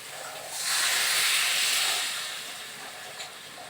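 Water added to a hot pan while cooking a Bengali prawn and pumpkin ghonto bursts into a loud hiss that swells quickly, then slowly fades over a couple of seconds.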